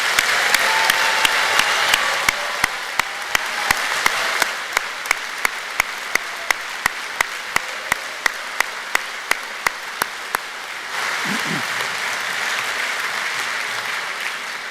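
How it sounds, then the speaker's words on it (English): Audience applause at a university graduation ceremony fills the opening seconds, then thins out while a rhythmic series of sharp claps continues before the applause swells back up. "I'm sure you would like to join me in giving them a very warm round of applause."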